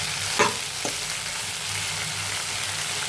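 Sliced okra (bendakaya) frying in oil for a simple curry, a continuous close sizzle with a couple of brief spatula knocks near the start, no talking.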